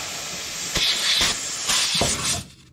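Bursts of pressurized air hiss in short pulses as a tire inflates, loud and close, with a steady airy background between them.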